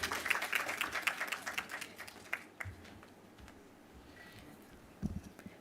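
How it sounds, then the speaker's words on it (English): Audience applause at a productivity forum in Jamaica, a burst of clapping that fades within a couple of seconds, leaving a quiet room with a few scattered claps and a brief late flurry. "another round of applause for him"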